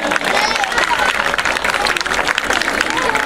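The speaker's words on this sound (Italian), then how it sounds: "Perfetto, un grosso applauso." Audience at an outdoor dance competition at a beach chalet claps steadily, a dense, loud, continuous applause with some crowd noise mixed in.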